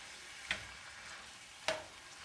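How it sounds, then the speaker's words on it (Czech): Rice is stirred into risotto frying in a pan, with a quiet steady sizzle and two brief scraping strokes of the spoon, no talking. "už jenom přidáme rýži, která se nám během toho našeho krájení a smažení a redukování dodělala a pořádně to zamíchám"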